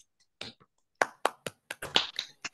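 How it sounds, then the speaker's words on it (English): Sparse, uneven claps from a few people unmuting on a video call during a poetry club reading, coming through as scattered sharp taps with gaps between them and a brief voice mixed in. "feel free to unmute and audibly applaud if you like"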